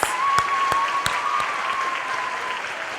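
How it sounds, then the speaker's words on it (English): An audience at the 2020 Miss Auburn scholarship pageant gives a hearty round of applause, loud, continuous clapping with a few sharper individual claps standing out. "One more round of applause for both of our representatives."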